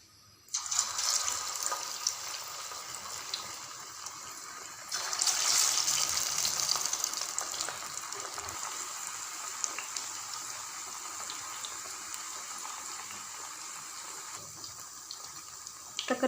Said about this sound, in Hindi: ऑयल हमारा अच्छे से गर्म हो चुका है, हमने दरमियानी आंच कर दी है। अब हम इसमें एक एक पीस उठा के फिश का डालते जाएंगे।